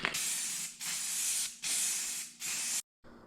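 Four steady bursts of white spray paint hissing from an aerosol can onto a primed clothes dryer, each about a second long with short pauses between, close and alone.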